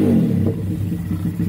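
Honda Grom motorcycle engine running after warming up, a low steady idle with a pulsing, slightly uneven throb throughout, close and fairly loud with no talk.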